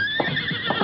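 A white horse gives a short, close whinny with a few quick rising and falling pulses under a steady background score.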